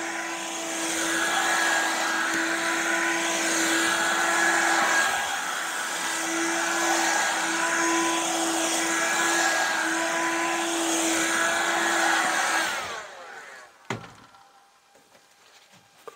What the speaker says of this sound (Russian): Включаем пылесос.